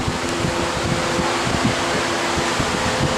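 A Dayton industrial pedestal fan runs steadily with a constant broadband whoosh and a low hum, while gusts of its airflow buffet the microphone with irregular low rumbles throughout.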